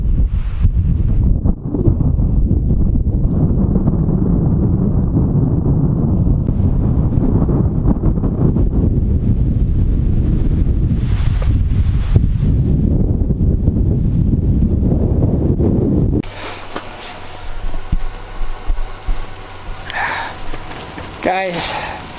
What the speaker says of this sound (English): This wind is a little miserable.